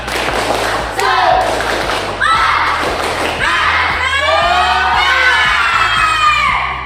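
A class of children performs a rhythmic spirit clap, with bursts of thumping claps and excited shouting and cheering voices, loud and close in a classroom.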